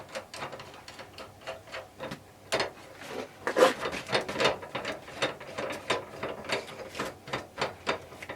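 A ratchet wrench tightens the nut on a motorcycle footrest bolt, producing steady, close rapid clicking that continues in even rhythmic strokes for several seconds, with no speech.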